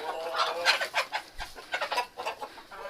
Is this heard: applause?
no